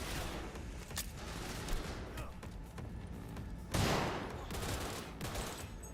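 A grenade blast goes off in the Cyberpunk 2077 PC game amid a steady stream of rapid gunfire, with a heavier burst partway through standing out above the continuous shooting and other combat noise.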